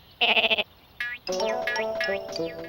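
A cartoon sheep in a VeggieTales episode bleats in a quick wavering burst, followed by more bleats and animated sheep-like vocalizing, close and loud with no talking.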